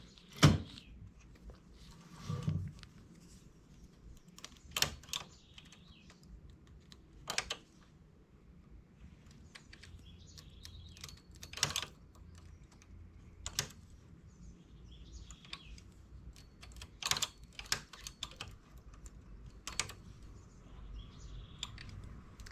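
A domestic knitting machine binding off a summer top with its carriage: scattered sharp mechanical clacks and knocks, some single and some paired, separated by quieter stretches of soft rustling handling noise.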